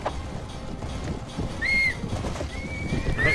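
Horse whinnying and hooves in the medieval combat video game Mount and Blade Warband, with brief high whinny calls over a low bustle of game sound, moderately quiet.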